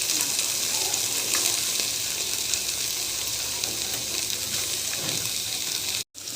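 Ridge gourd pieces frying in hot oil in a pan with green chillies and tomato, giving a steady, loud sizzle throughout with faint stirring scrapes, cutting out briefly near the end.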